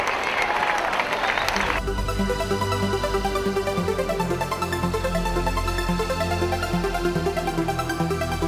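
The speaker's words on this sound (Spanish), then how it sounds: "así que un aplauso para Porón Pompón." Audience applause at a fashion show runway in Can Pastilla, loud sustained clapping from a large crowd, with a burst of cheering at the start and music playing underneath throughout.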